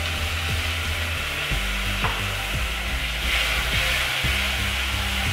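Potato curry (aloo dum) sizzles steadily in a pan while a spoon stirs and scrapes it with regular, close rubbing strokes over the continuous frying hiss.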